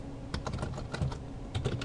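Quick, irregular keystrokes tap on a computer keyboard as a username and password are entered, quiet and close with no voices.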